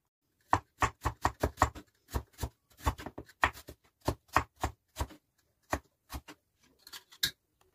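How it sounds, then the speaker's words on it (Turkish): Steady knife chopping of potatoes on a cutting board, a quick run of crisp taps with short pauses, close and clear with no talking. "Arkadaşlar ben patateslerimi doğradım."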